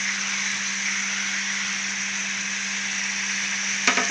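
Lentils deep-frying in hot oil make a steady, close hiss and crackle with an even bubbling texture and a constant low hum beneath, continuing unbroken throughout.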